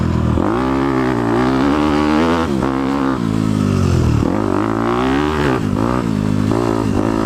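Dirt bike engine of a 2018 Honda CRF250 big bore under riding load, loud and close, with rising and falling revs as the rider rolls on and off the throttle throughout.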